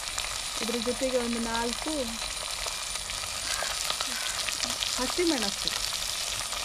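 Oil spatters and sizzles steadily as mixed vegetables fry in a pan with green chillies added, a continuous crackling hiss under someone speaking in Kannada.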